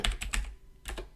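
Quick bursts of typing on a computer keyboard set to a German layout, several sharp key clicks in rapid rhythm, a short pause, then two more taps, close and clear with no voices.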